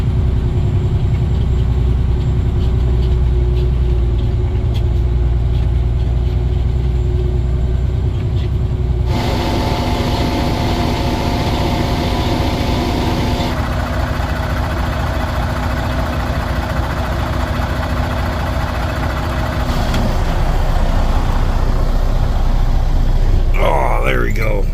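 Grain truck engine running during a soybean harvest near Battle Creek, a loud heavy rumble that idles low at first, then revs up and shifts character midway, with people talking intermittently over it.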